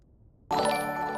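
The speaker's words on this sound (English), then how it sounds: "That is the sound of a follow" New-follower alert on a livestream of the game Dune: Awakening: a single bright, chiming tone starts abruptly after near silence and rings steadily for the rest of the moment at moderate volume, with no voice over it.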